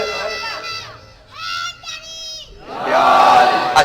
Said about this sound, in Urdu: اب آپ نے لگا لیے نعرے